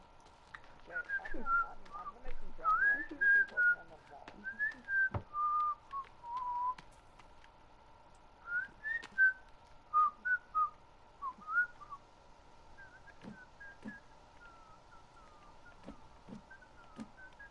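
A person whistles a series of short, wavering melodic phrases in bursts with pauses between, fairly close, over a quiet background with occasional soft knocks.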